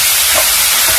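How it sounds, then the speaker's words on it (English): Ground beef sautéing with onions in a hot pan gives off a loud, steady, unbroken sizzle and hiss throughout, close up and without speech. "I'm now going to go in with my ground beef. And I'm going to saute it"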